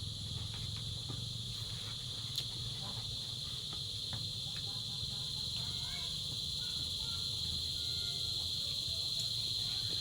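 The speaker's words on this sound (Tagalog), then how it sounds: "Tumutok na kuliglig." Crickets chirp steadily through the night, a continuous high-pitched insect drone that holds evenly from start to finish with faint background sounds beneath it.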